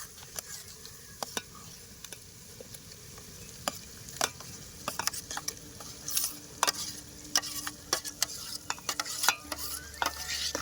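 Roasted brinjal mash for Kathiyawadi desi oro sizzles and frys in a pan while being stirred, a steady close crackle broken by sharp scraping clicks of the spoon against the pan.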